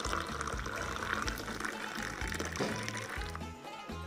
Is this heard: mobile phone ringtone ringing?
no